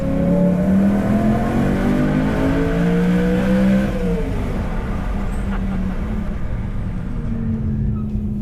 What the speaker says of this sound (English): It's always an horror pleasure to drive through a tunnel with an M3. Listen to that.